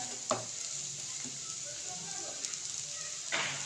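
Semolina roasts in desi ghee in a pan while a spoon stirs it continuously, giving a faint, steady sizzle broken by a few soft scrapes and clinks.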